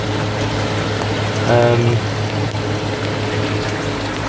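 A constant mechanical hum of a pond pump running at about 70% with trickling water, steady and close, with a brief tonal whine midway.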